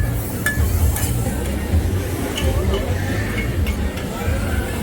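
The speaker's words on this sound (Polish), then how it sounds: "Tu pan smaży kukurydzę." Corn sizzles and fries on a hot surface at a night street food stall in Kuala Lumpur, with occasional clinks of utensils, amid a busy, noisy background with voices.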